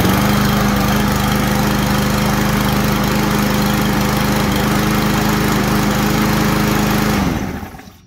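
A Craftsman M270 walk-behind lawn mower engine runs steadily and loud at close range, a constant droning hum with a strong low tone, then cuts off abruptly near the end; no talking.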